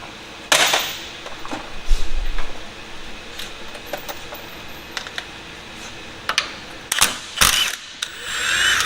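A ratchet wrench with a 17 mm socket loosens the lower bolt of a rear shock on a third-generation Toyota 4Runner, giving scattered sharp clicking bursts with pauses between strokes against a quiet garage background.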